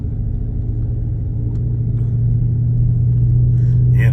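Steady low engine rumble inside a car crawling through heavy traffic on the way across town, a constant droning hum that swells slightly toward the end, with no voices.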